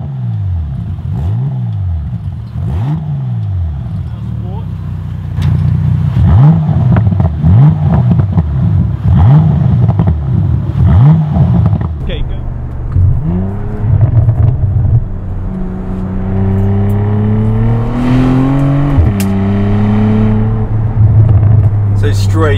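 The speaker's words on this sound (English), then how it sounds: "Straight away you will hear those pops, bangs and burbles are much louder inside the car." A 2019 Bentley GT W12 with a QuickSilver exhaust system, heard from inside the car while driving. The engine drones and rises through repeated revs, broken by loud exhaust pops, bangs and burbles on lift-off, with someone talking over it.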